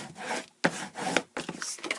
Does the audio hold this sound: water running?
no